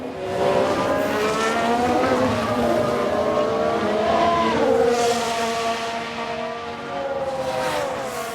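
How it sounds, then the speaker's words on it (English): Formula 1 cars in the F1 Manager 22 racing game scream past with high, rising and falling engine whines, one car's locked brakes adding a tire squeal amid the continuous race noise. "Sounds like someone's locked up."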